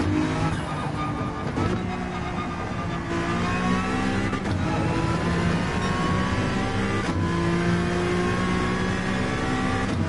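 A race car engine revs hard through the gears at the Nurburgring in the Gran Turismo 7 video game, with a loud, steady rising drone and shifts, close and continuous for about ten seconds, with no talking.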